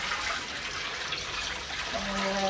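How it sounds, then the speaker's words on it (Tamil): Drumstick leaves are washed under running water from a tap, a steady close splashing gush throughout, with a brief faint tone near the end. "முருங்கைக்கீரையை நல்லா கழுவிக்கிறேன்."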